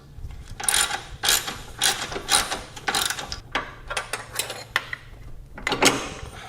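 A socket wrench ratchets a 9/16 nut loose on a frame bolt holding a Harley-Davidson tip-over style saddlebag guard, close-up, in irregular bursts of rapid clicking with brief pauses.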